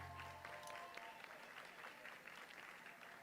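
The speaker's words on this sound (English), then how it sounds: "Look at that, they're cheering!" A crowd cheers and applauds in celebration after a completed space mission in the Mars Horizon game, a steady dense wash of clapping and cheering heard alone, with a low tone fading early.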